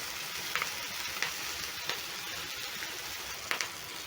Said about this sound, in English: let my fish cook together with the thyme